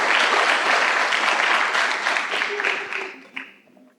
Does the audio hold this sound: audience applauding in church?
yes